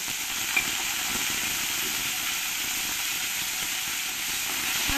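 Potato pieces frying in well-heated oil in a wok, a steady broadband hiss and sizzle running evenly throughout with no talking.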